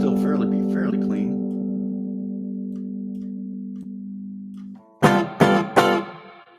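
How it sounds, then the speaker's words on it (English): A sustained electric guitar chord rings and slowly fades, followed by three sharp muted strums near the end. "The guitar is a little thwacky sounding."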